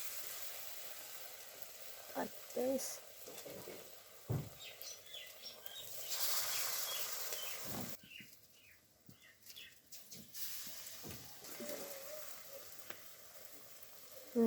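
Tomato fries in oil with a soft, uneven sizzle. Occasional stirring knocks and faint bird chirps come through, and a voice speaks quietly now and then. The whole scene stays low in level.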